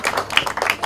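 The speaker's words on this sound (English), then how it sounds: "Clap for yourself." A small group of people claps briefly, with quick, uneven claps close to the listener.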